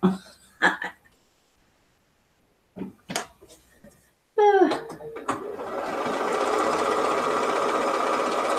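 A sewing machine stitching a quilt block, first a few short bursts of stitching between pauses and clicks, then a steady close whirring run that lasts to the end, with a person speaking briefly before it.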